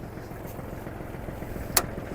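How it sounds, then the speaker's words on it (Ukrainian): The engine of a Kubota GL-220 Japanese mini tractor idles steadily as it warms up, a low, even rumble heard up close. One brief sharp click comes near the end. "Дамо двигуну трішки прогрітись."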